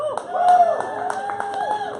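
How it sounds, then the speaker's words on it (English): A concert crowd at the Crescent Ballroom applauds, with scattered claps, whistles and cheering shouts rising and falling close by over a couple of seconds. "Wow, that's a nice applause"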